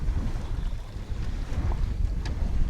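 A small Florida 120 sailboat sails with its motor off, giving a steady wash of wind buffeting and water rushing along the hull, close and loud, with no voices.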